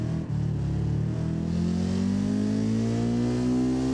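A car engine in the BeamNG.drive video game revs up steadily, its pitch climbing smoothly over a few seconds, loud and close with no talking.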